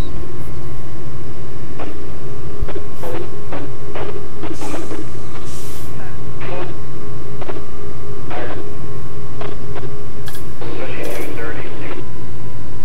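A diesel locomotive in Train Simulator 18 labors up a steep hill at high RPM, its engine a steady low drone under frequent clicks and brief hissing bursts, with a person talking over it.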